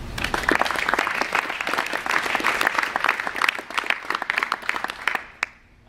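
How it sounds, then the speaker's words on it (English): An audience claps loudly and steadily for several seconds, the applause thinning to a few scattered claps before stopping. "I'd like to give us all a round of applause for that."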